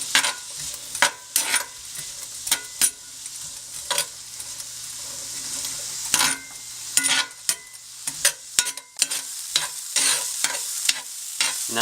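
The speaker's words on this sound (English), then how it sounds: "add your red peppers, add your onions, green peppers, and saute until tender" Red peppers, green peppers and onions sautéing in a pan over medium-high heat, a loud close sizzle punctuated by frequent sharp clacks and scrapes of a utensil stirring the vegetables.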